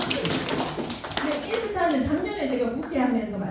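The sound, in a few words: audience clapping on request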